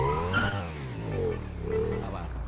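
A motorbike's tires squeal while drifting in GTA V roleplay, wavering screeches over a revving engine drone, rising and falling in pitch across a couple of slides.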